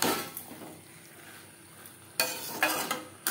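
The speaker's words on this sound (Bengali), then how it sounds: "মশলার সাথে আলু বেশ ভালো করে মিক্স করে দেব" Chopped potatoes with skin on are stirred with spices in a pan, quiet sizzling broken by a few sharp scraping clinks of a utensil, with a louder burst of stirring near the end.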